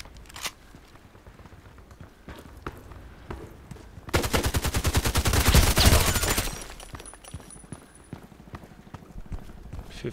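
Rapid automatic gunfire from the video game Contract Wars, a dense rattling burst of evenly spaced shots lasting about two and a half seconds mid-clip, loud against quieter scattered game sounds before and after.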